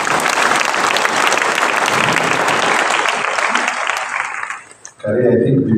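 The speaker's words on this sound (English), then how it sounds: "Let's give a big clap to Mama Jo." Dense, loud applause from an audience at a memorial tribute for Mama Jo, steady clapping for about four seconds before dying away, then a voice starts speaking.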